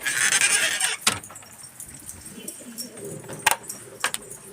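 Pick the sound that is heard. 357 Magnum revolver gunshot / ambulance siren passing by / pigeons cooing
pigeons cooing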